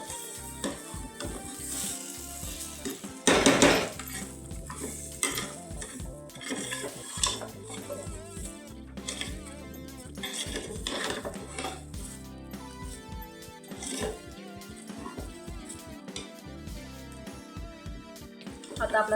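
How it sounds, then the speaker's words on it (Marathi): Rice stirred and roasted in a pan for masala bhat, a metal spoon clattering and scraping against the pan in frequent strokes over a light sizzle, with background music throughout. "तांदूळ व्यवस्थित मिक्स करून घ्यायचा आणि भाजून घ्यायचा."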